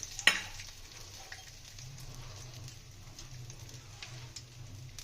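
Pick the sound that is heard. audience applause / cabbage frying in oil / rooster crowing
cabbage frying in oil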